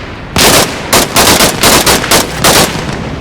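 Video game gunfire rings out in loud, rapid bursts of shots close by, separated by short gaps, with no talk over it.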